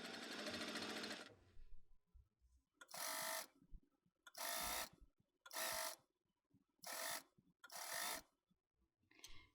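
A sewing machine stitches a shortened T-shirt sleeve hem, running in one long burst and then six short, evenly spaced spurts with quiet pauses between, close and clear with no talking.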